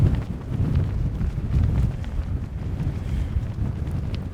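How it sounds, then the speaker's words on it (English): Strong wind on an exposed hillside path gusts against the microphone in a continuous low, rumbling buffet, loud and close throughout with slight swells and dips and no voices. "I think this side really has a lot of wind. A lot of wind here."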